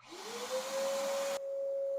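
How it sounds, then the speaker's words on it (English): A vacuum cleaner hose sucks leaves out of the engine bay of a Toyota AE86 with a 4AGE engine. It spins up into a steady, close whine with a rushing hiss, which drops abruptly in tone partway through as the airflow changes. "turn on your vacuum"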